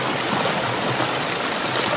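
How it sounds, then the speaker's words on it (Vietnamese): Steady rush of a stream flowing in Khe Đầy near Huế, a continuous broadband wash of moving water, close and even throughout with no voices. "Nước chảy."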